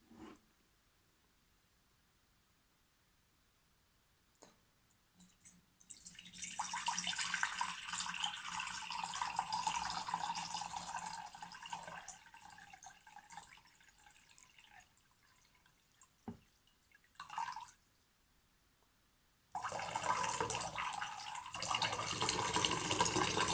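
Water is poured into a container as a joke about freeze-dried water, giving a loud, steady splashing stream that stops briefly and then resumes. No one speaks.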